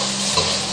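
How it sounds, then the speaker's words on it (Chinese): Guo bao rou pork stir-fried in a wok with vegetables and sweet and sour sauce makes a brief, steady hiss of frying with a faint scrape of stirring, close and even. "再翻炒5秒就可以了。"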